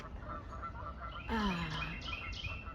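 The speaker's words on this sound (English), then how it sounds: "see if you guys can see the ducks at the other side of the lake" A single loud honking call from ducks across a lake rings out over a quiet outdoor background, followed by fainter squawks.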